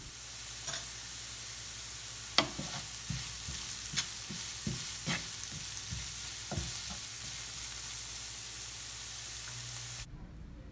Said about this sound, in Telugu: కరివేపాకు వేసి వేయించాలి.